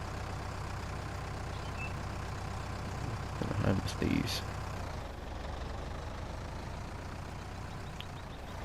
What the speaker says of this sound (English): I'm hoping the tractor isn't too loud that you can't hear me